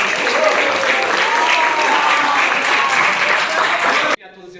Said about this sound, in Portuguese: Pessoal, palmas para os Tomás